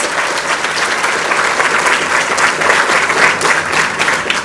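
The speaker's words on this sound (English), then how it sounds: "I think that deserves a round of applause." An audience breaks into loud, steady applause at a public event, dense clapping swelling slightly toward the end of a few seconds.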